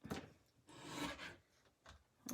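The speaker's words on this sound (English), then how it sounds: "So let's bring in my wee trimmer" A small paper trimmer slicing paper in a crafting session, a few quiet soft scraping swipes close by over about two seconds.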